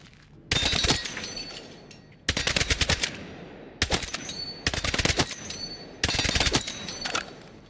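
Gunfire in Battlefield 6 comes in five short, loud bursts of rapid shots, each separated by a brief pause, with clipped automatic cracks close and alone.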